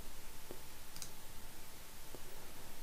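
A few faint, sharp computer mouse clicks while working in Adobe InDesign's export menu, spaced apart in a quiet room with no talk.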